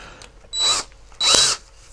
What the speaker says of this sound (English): So I've got my DeWalt drill here.